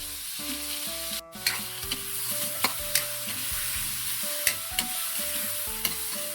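Garlic, onion and tomato sauté in hot oil with fish sauce for a mung bean dish, a steady close sizzle broken by regular scraping stirs of the spoon.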